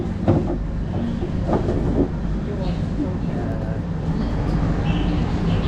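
Tejas Express train running along the rails from Delhi to Lucknow, a steady loud rumble and rattle heard from inside the coach, with faint clacks and a voice talking over the noise.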